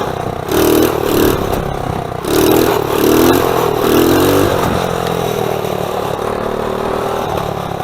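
SUNL110 Chinese ATV engine revving hard in repeated surges during a wheelie run, then settling into a steady drone; loud and close with no talk.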